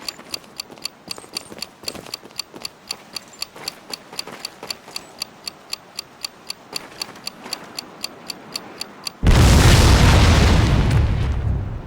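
An explosive charge planted on a car detonates in Medal of Honor Pacific Assault, preceded by a long run of steady timer ticks, then a loud, close blast that roars and slowly fades.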